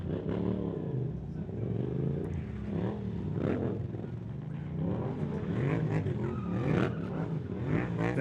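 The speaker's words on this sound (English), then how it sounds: "We've got some burnouts going down here right by the tower" A car doing burnouts beside the tower at the DOORWARZ stunt show gives a steady, loud engine roar with rising revs and tire noise throughout. Crowd and venue noise sit underneath.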